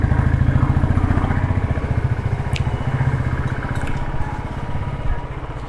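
A Royal Enfield Classic BS3 motorcycle engine thumps steadily at a low, even beat, loud and close with a punchy single-cylinder pulse.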